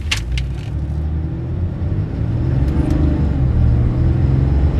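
A 2025 RAM 3500 high-output Cummins diesel truck with an 8-speed transmission accelerates from 0 to 60, a heavy low engine drone rising steadily inside the cab after a brief jingle of keys.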